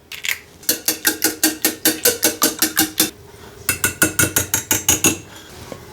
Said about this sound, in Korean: 계란을 먼저 풀어 주시고요